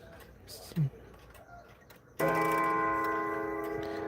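A few faint clicks, then clock gong rods strike a loud metallic three-note chord, resonating steadily and slowly fading.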